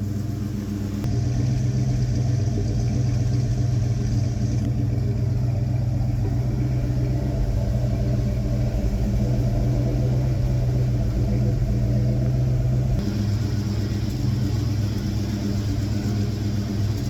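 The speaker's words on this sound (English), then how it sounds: "Except for that exhaust leak down here." A 1971 Ford Torino V8 runs with an exhaust leak, a loud steady rumbling idle close by with a slightly raised pitch partway through, lasting the whole stretch without speech.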